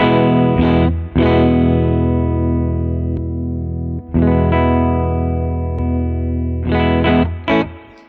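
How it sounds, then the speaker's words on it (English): A Fender Gold Foil Jazzmaster through a Benson Germanium Boost pedal plays sustained, bright boosted chords that ring out for several seconds each, separated by brief pauses and a final short strum. "let's try some things with the Benson Germanium Boost."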